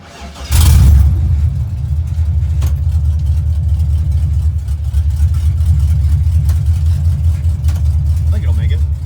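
A 1975 Pontiac Firebird Formula with a swapped LS engine driving nearby, its low engine rumble rising sharply at the start and then holding a steady drone with slight variations.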